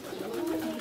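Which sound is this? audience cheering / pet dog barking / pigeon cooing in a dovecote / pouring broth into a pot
pigeon cooing in a dovecote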